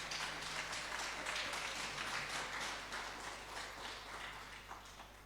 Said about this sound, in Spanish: Den un aplauso fuerte.